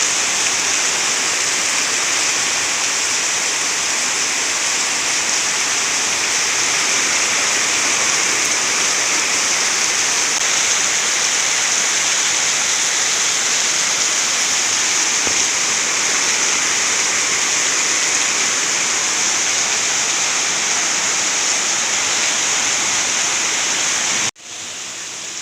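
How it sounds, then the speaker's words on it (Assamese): Heavy rain pours down beside a house pond in a dense, even hiss, close and loud, unbroken for most of the stretch before it cuts off abruptly near the end. "বৰষুণ আহিছে বহুত"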